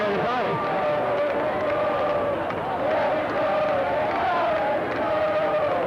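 Rugby league crowd at Cougar Park during Keighley v Dewsbury, cheering a Dewsbury Rams try in a sustained distant roar beneath a commentator's continuous talk.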